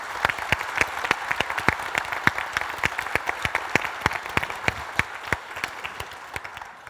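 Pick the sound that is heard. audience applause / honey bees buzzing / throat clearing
audience applause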